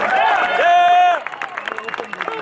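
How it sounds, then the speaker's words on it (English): Applause and scattered clapping break out at a record-setting 1,000-person shooting event, following a sustained voice, with a crowd clapping in uneven bursts for just over a second. "One last round of applause for today's successful record-setting event."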